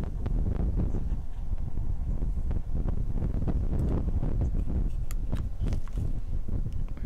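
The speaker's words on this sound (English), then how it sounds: "You can feel the strong wind and weak signal." Strong wind buffets the microphone on a ship's deck at sea during a naval exercise, a steady loud roar with gusty rumble throughout and no speech.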